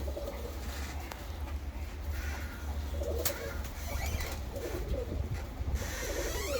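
Fancy pigeons of the Chayka and Volski breeds coo softly inside a loft, low repeated calls set against a steady background hum, with occasional faint chirps and a brief flutter.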